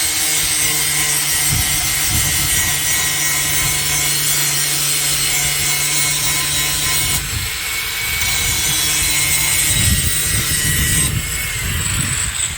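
Dull hay mower blades being ground on a farm: a steady, loud abrasive rasping and rubbing that runs continuously, with shifts in tone and a rougher, scraping stretch near the end.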